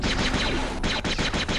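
Rapid automatic gunfire in the video game Jedi Academy, a loud, close, continuous burst of shots with a few sharper cracks punctuating the stream.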